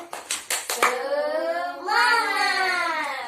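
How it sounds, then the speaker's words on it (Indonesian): Children clap hands in an elementary classroom during a microteaching lesson, a few sharp rhythmic claps at the start, then a child's drawn-out voice or cry takes over, close and clear. "Oke, tepuk tangan."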